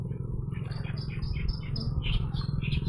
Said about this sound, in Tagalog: Dito lang po tayo sa tunog ng mga ibon